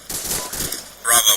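Rapid bursts of suppressing gunfire in the military game ArmA 2 crackle in quick, uneven volleys, with a louder, brighter burst near the end, mixed with a voice speaking over the shots.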